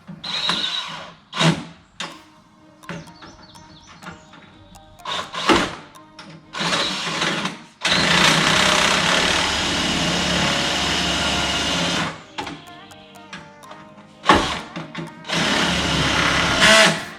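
An electric drill runs in a garage while working on the front end of a Jeep Wagoneer, short whirring bursts followed by a long sustained loud run, then more brief bursts.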